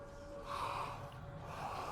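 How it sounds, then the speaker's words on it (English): Heavy, rasping creature breathing from the game Hellblade: Senua's Sacrifice, a steady drawn-out huff rising and falling over about two seconds, close and fairly loud against a low ambient drone, with no talking. "It's breathing."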